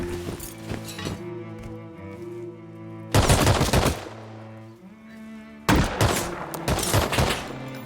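AK gunfire in a survival video game, two loud bursts of rapid automatic shots close by, separated by quieter stretches of droning background tones.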